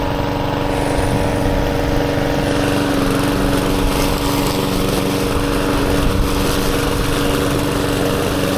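A lawn mower runs steadily while cutting grass in a garden, its engine drone loud, close and continuous throughout without a pause, with no one speaking over it.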